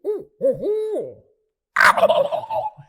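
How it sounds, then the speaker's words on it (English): Several rising-and-falling barred owl hoots, clear and fairly close, followed after a short pause by a rough, rattling burst of calling. "you could hear an old barred owl off in the distance"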